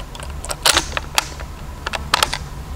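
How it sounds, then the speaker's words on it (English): A bolt slides back into an M44 Mosin carbine, giving a few close, sharp metallic clicks and scrapes spread over about three seconds against a quiet background. "Then you put the bolt back in"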